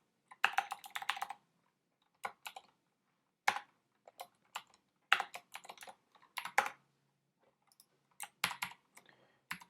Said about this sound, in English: It's so difficult to write on a keyboard without looking at it.